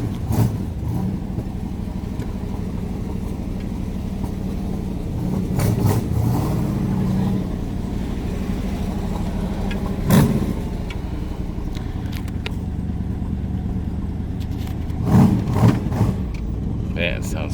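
A 1964 Chevrolet Corvette roadster with its original 327 V8 idles with a rough, throaty burble and gives several sharp revs, with people talking nearby over the engine.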